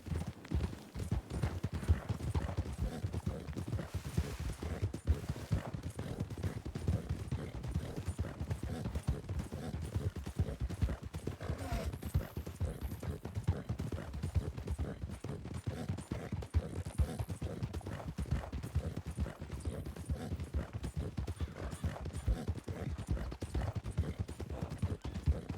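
Horse hooves clip-clop steadily in the Western game Red Dead (RedM), a continuous, fairly quiet rhythm of hoofbeats with faint mechanical rattles and no talking.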